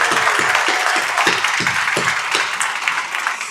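An audience claps for a pharmacy class at a White Coat Ceremony, a dense, steady wash of applause with a few louder individual claps standing out, sustained at even volume throughout.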